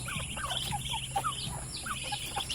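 Ducks call in short, repeated bursts over a steady background hum, several birds chattering close by with no talking.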